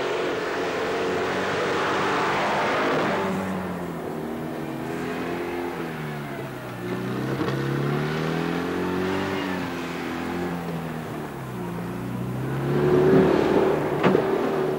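A Méhari 4x4 off-road vehicle crawling over rough, steeply sloping terrain, its mid-pitched engine rising and falling as it revs through gear changes, close by, with a louder surge near the end.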